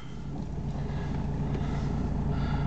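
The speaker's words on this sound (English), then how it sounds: "We'll start the car up." A BMW 320CD diesel with about 114,000 miles idles steadily just after starting, a close, even low rumble with no talk.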